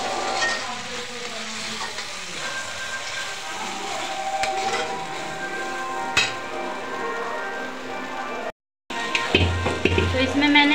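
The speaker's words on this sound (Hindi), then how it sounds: "तो इसमें मैंने तड़का डाल दिया है फ्रेंड।" Tadka tempering for dal sizzles in a hot pan, a steady frying hiss with crackles and a few clinks of utensil against metal, continuing close and loud with a brief cutout near the end.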